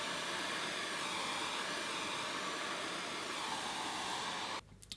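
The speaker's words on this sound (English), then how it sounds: "This hairdryer is so powerful." A powerful hair dryer blowing wet paint on a glue gun art piece, a loud steady whooshing roar held close for several seconds before cutting off abruptly near the end.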